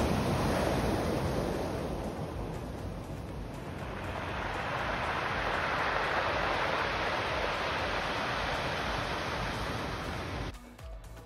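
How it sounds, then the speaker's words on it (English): Steady, roaring wash of ocean surf breaking on rocks beside a campground at the edge of the sea on Vancouver Island, loud and continuous with no voices, cutting off abruptly at the end. "sound of the surf on the rocks."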